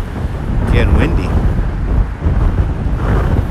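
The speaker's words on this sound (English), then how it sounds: "Getting windy." Loud, steady wind buffets the microphone outdoors at sunset, a dense rumbling roar with a few brief tonal sounds partway through.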